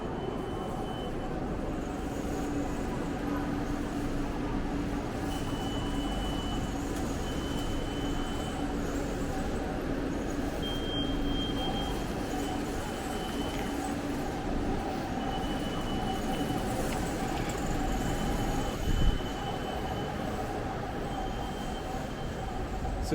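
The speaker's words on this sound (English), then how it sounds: "So if you turn left, that's the SkyTrain down there." An Expo Line SkyTrain passes near Waterfront Station in Vancouver, a continuous metallic rumble with faint wheel squeal and tonal whine, heard at a distance under general urban ambience.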